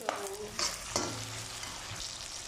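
Onion and tomato sauté in a pan for squid adobo, a steady frying sizzle punctuated by a few sharp utensil clinks and stirring scrapes, close and moderately loud.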